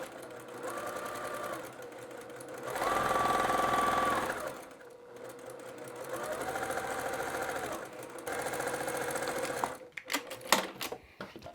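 A sewing machine stitches a quarter-inch seam through matched patchwork fabric in three close bursts of steady whirring, with brief pauses between runs and a few sharp clicks and handling knocks at the end.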